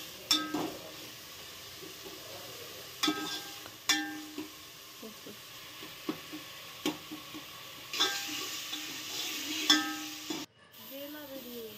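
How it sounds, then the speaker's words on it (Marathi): Tomatoes frying in a pan for Malvani chicken sukka, a soft steady sizzle with occasional sharp clicks and scrapes of stirring, fairly quiet and close. "तर म्हणजे टोमॅटो सुद्धा आपलं व्यवस्थित भाजत केलेलो असा"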